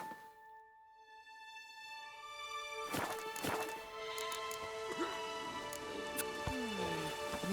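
Steady rainfall patters in The Witcher 3: Wild Hunt, Hearts of Stone, a soft wash of drops under sustained musical tones, broken by a few sharp knocks and hoof-like clops.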